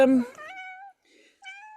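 A cat meowing close by: a loud rising-and-falling meow, a short pause, then a second, shorter meow, with a voice at the very start.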